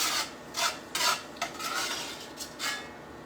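Spinach, tomato and onion mixture scooped from a pan into a bowl for a crustless quiche: a series of scraping, clinking utensil strokes against cookware at an uneven rhythm, close and moderately loud, with no talking.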